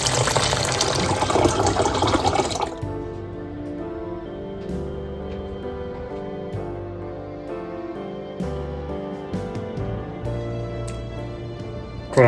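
Water poured into a bowl of urad dal, oats and poha for soaking: a brief, bright gushing fill for a couple of seconds, then the pouring stops and gentle music continues.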